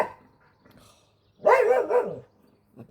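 A dog barks in a sharp, loud burst of a couple of overlapping barks in the middle, with quiet gaps and faint sounds before and after.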